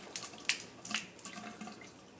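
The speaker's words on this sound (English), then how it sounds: "I'm just going to refill it with hot water." Hot water from a tap splashing into a shaving brush scuttle, irregular close splashes and trickles that taper off toward the end, no voices.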